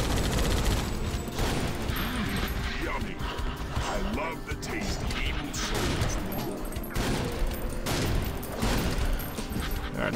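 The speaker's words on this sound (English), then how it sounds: "May as well just use the bombs that I have right now." Bombs blow up in the Painkiller: Reloverdose graveyard level, a dense, continuous barrage of booms and crashing gunfire that stays loud and chaotic throughout, with game sounds layered over one another.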